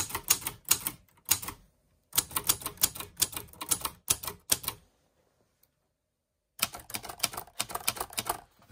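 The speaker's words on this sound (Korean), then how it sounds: "보시다시피 이 나르기 시프트 방식이지만 정말 정숙하다는 거, 그리고 이 키 작동음도요." A Hermes Baby portable typewriter with basket shift is typed on up close: crisp key strikes in quick bursts, a silent pause, then another run of clattering keystrokes for comparison.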